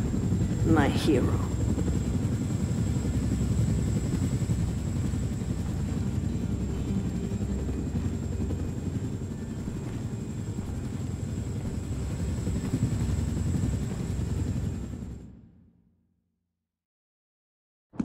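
A helicopter in the Wolfenstein video game gives a loud, continuous rotor and engine drone for about fifteen seconds, then cuts out abruptly into silence.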